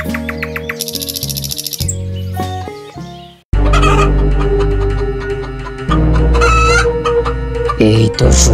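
Cartoon chicken clucking and crowing over bright musical stings, with punchy animated sound effects, a short pause, then a louder burst of music and fowl calls, all close and loud.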